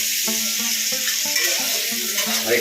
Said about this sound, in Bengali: আমাদের পেঁয়াজ ভাজা চলছে